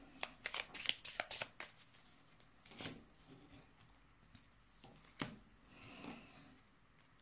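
Cards being shuffled for a card reading, a quick cluster of soft papery riffles at the start followed by scattered slides and taps, close and quiet with no voices.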